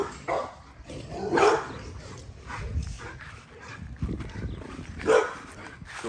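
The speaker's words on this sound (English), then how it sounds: "So it's a dog on the other side of the fence." A dog barks on the other side of a fence in repeated bursts spaced a few seconds apart, moderately close and fairly loud, with some yipping between the barks.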